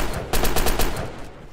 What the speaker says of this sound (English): they're shooting off here